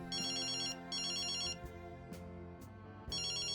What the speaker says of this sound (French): Là, téléphone. Allô?